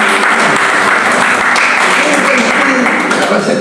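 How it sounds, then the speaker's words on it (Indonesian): A congregation applauding during a church service in an apartment in Jakarta, a loud, dense, continuous clapping with voices mixed in underneath. "Berikan tepuk tangan."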